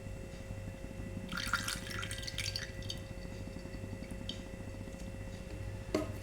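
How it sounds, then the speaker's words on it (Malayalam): Sesame oil pours into a heated pan for a mango pickle, giving a soft liquid trickle and splash that is strongest in the first few seconds and then fades under a steady low hum. "ആവശ്യത്തിന് നല്ലെണ്ണ ഒഴിക്കാം."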